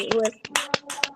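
People at a church prayer gathering clap their hands in a few short, sharp bursts, mixed in with ongoing talk.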